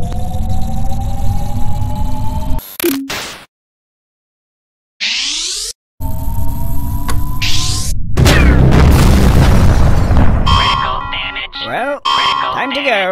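A charging and firing blast from the Supreme Dominance weapon in the Henry Stickmin video game: a loud electronic whine, a sudden cut to silence, then a heavy booming discharge with alarm-like tones, under a voice at the start.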